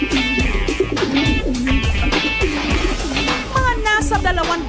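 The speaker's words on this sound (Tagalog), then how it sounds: "Mga nasa 200 homing pigeons o kalapati." About 200 homing pigeons coo repeatedly in a dense, continuous chorus on a three-story house, overlapping with other bird calls and some voices in the background.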